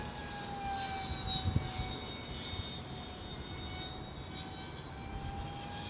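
A small model jet with thrust vectoring, flown outdoors in breezy conditions during a flight test, gives a steady high whine with broad rushing noise, continuous and moderately loud throughout, with no voices.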